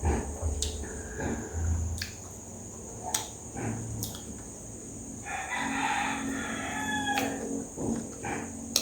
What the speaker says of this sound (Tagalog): Nanggigising na naman ang mga manok.